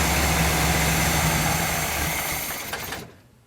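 A 1959 GMC truck engine idles with a steady low rumble, loud and close, then fades out sharply near the end as the engine dies.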